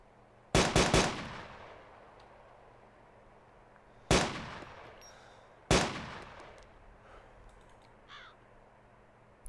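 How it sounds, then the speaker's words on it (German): Gunfire from the last magazine being emptied in the video game DayZ Epoch: three loud, sharp shots, the first a quick cluster of rapid cracks, then two single reports spaced a second or so apart, each with a short decaying tail over a low background hum. "Das werde ich jetzt einfach reinballern und hoffen, dass ich irgendwas treffe."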